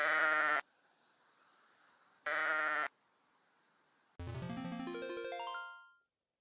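Goats bleat on a countryside goat farm: two loud, sustained bleats separated by a pause, followed by a rising electronic swoosh that fades out.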